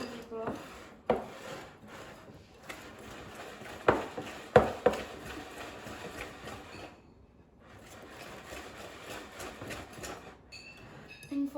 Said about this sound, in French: racler sur les bords.